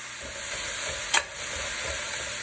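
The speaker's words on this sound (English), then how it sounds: "Garlic in. Spinach in. That's going to wilt down, so don't worry about the pan size." Garlic and spinach sautéing and wilting in a pan for spanakopita, a steady close sizzle with a sharp hissing burst partway through, followed by continued frying and stirring, with no talking.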